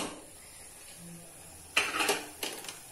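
Lid of a cooker being lifted after steaming a Kalathappam rice cake, a quiet hiss giving way to a sharp metallic clatter and a short rattle, followed by a second lighter clink, close and fairly loud against a faint background.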